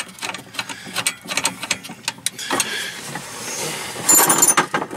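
Wrenches turning a bolt and Nylock nut during a Throttle Maxx install on a Polaris RZR XP 1000, giving rapid clicking ratchet-like metal clinks up close, busier and louder near the end, with no talking.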